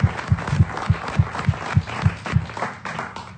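Studio audience applause for guest Philippe Geluck on a French-language radio show, a bright clapping wash over a regular thumping beat that pulses evenly before fading toward the end.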